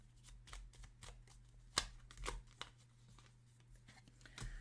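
Tarot cards shuffled by hand in soft, irregular riffles and flicks to draw a shadow card, with one sharper snap partway through, quiet and close over a faint low hum.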